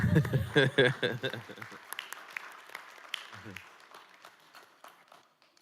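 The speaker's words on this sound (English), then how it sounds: "Let's give her a round of applause" Brief applause for a school principal at a board of directors meeting, starting under a speaking voice and fading quickly into scattered claps and quiet.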